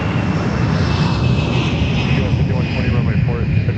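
A former Northwest Delta Airbus A320 airliner rolls for takeoff at MSP airport, its jet engines producing a loud, steady roar with broadband rush and a faint whine, while someone talks over it.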